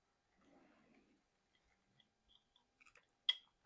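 Someone chews and bites into a shrimp dish that tastes like scampi and ceviche, made with garlic, peppers and sambal oelek, producing faint, close, soft crunching followed by a few scattered sharp clicks in quiet surroundings.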